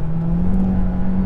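A 2022 Volkswagen Tiguan 1.4 TSI eHybrid plug-in hybrid SUV with a DSG dual-clutch gearbox on kickdown, a steady loud engine drone with a rising whir, heard briefly and up close.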